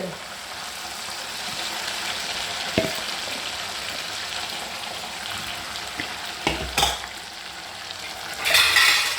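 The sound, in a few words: chicken frying and being stirred in a pan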